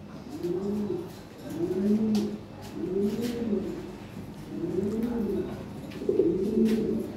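Lahore fancy pigeons, a breeding pair, coo in repeated low rolling phrases, about five bursts at a steady rhythm, close and clear with no talk.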